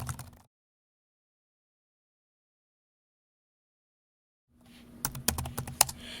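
Computer keyboard typing, a quick run of sharp key clicks entering an email address into a Google Sites sharing field, heard near and alone after a long silence.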